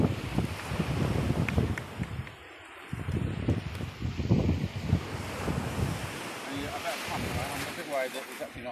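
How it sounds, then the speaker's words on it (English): Blustery wind by the sea while someone tries to fly a kite, gusts buffeting the microphone over the wash of surf, with people talking. "There'll be a gust in a minute,"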